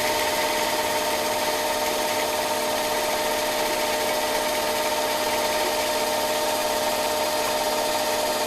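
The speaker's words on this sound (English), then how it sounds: "it's drilling a nice tight hole." A steady, continuous drilling whine runs without pause, a power drill cutting a hole in metal at constant speed with a sustained high-pitched tone and no voices.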